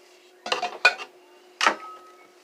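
A metal saucepan is pulled from a kitchen cupboard, giving three close clattering clanks of metal on metal with a faint ringing tail, set against a quiet steady hum.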